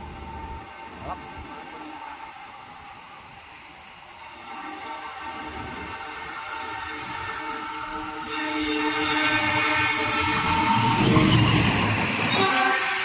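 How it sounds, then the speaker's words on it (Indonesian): A vintage locomotive pulling a train of tank cars rumbles past with rattling cars and a sustained horn tone, growing louder toward the end as it nears. "Dapat momen nih, kereta Ketel ditarik lokomotif vintage."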